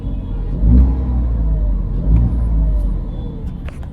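A 2023 Tata Tiago XT with its new engine starts up and revs, producing a close, low rumbling idle with two brief throttle blips that swell and settle back.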